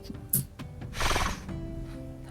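A horse snorts from its snout, a broad breathy blast lasting about half a second, close by after a few quiet knocks, with faint background hum.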